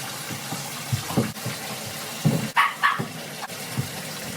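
A bathtub filling with room-temperature water for soaking houseplants: a moderate running-water wash heard through the room, with a few short dog barks and some movement noises over it.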